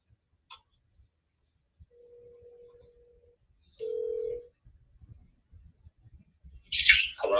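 Telephone ringing on a call line, a thin steady tone followed by a short louder ring pulse, quiet and close, with faint clicks and a higher chirping burst at the end.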